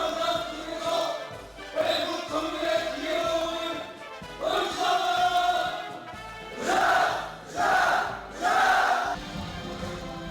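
Young railway ministry workers gather at a league meeting and shout slogans together, loud crowd cries rising in several surging bursts over a steady murmur, with a strong final series of three swells toward the end.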